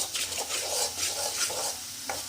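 Spices including garam masala fry in oil as a spoon stirs them around the pan, with soft rhythmic scraping strokes over a steady, close sizzle.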